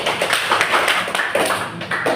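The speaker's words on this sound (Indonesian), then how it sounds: "Tepuk tangan dulu untuk Kakak Yani." Primary school classroom clapping for a student after a language lesson answer, a dense burst of many hands clapping close by, continuous for a couple of seconds.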